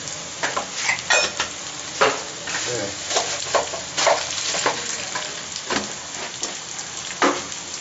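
Urad dal and cumin seeds sputter and fry in hot oil for a tempering, a steady close sizzle with crackling pops and stirring scrapes throughout.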